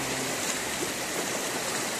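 A clear mountain river flows between tree-lined banks, a steady, close, broadband rush of water with no breaks and no voices.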